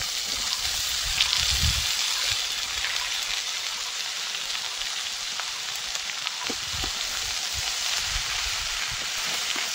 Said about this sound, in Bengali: থেতো করা রসুন একসাথে ভেজে নেব।